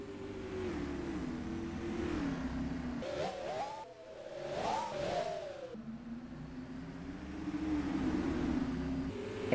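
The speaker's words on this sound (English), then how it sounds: "Tires on the track." Race cars roar around the Music City Speedway fairgrounds track during a heat race, engines droning loudly and steadily with rising and falling pitch as cars pass, one car sliding high on the track.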